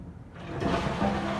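A push-button toilet flush in an empty apartment, a brief click followed by a rushing surge of water that continues evenly.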